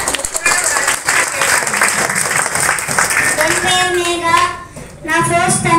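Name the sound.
audience applause for a primary school girl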